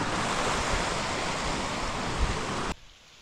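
Steady, full roar of falling water at Clifty Falls in Indiana, loud and close with wind buffeting the microphone, cutting off abruptly near the end to a much quieter background.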